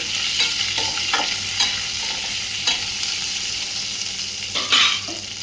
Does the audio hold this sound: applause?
no